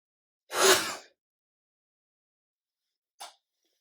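One loud, sharp sneeze close by, followed after a pause by a brief short sniff or snort, then silence.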